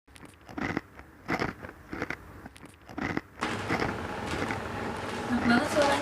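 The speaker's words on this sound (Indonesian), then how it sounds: "Enak banget suaranya. Kriuk-kriuk." Crunchy macaroni snack is bitten and chewed close up, with several short crisp crunches interrupting quiet talk, then a denser run of crackling chewing toward the end.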